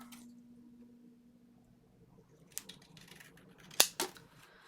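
Scissors cutting through a paper template for a vintage Christmas advent calendar craft, with a few sharp, close snips after a quiet start.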